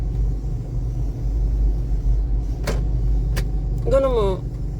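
A car engine rumbles low and steady from inside the vehicle while driving in traffic looking for a place to park, with brief sharp sounds and a short voice near the end.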